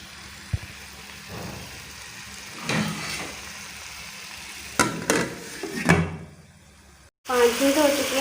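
Chicken tikka pieces fry in a covered pan, giving a steady low sizzle with a few sharper clatters and bursts near the end.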